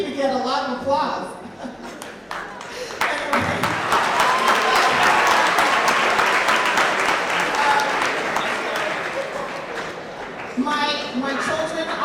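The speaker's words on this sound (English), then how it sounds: "Jason, you continue to get a lot of applause" Audience applause at a school event swells after someone speaks, dense crowd clapping rising to a loud, sustained peak before fading as her voice returns at the end.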